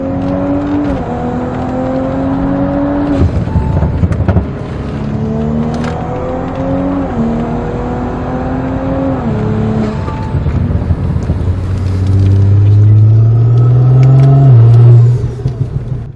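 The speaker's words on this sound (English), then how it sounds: "you could just hear that massive turbo trying to spool itself up" A loud turbocharged Audi B9 S5 Sportback engine with a TTE810 turbo revs repeatedly through rising gear pulls, whining and roaring up in pitch as the turbo spools, then a deeper surge near the end before cutting off.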